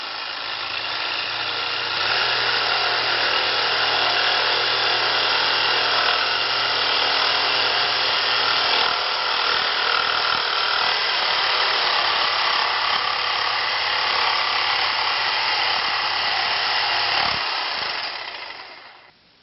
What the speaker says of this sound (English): you'll need to take your jigsaw and cut the rest of that out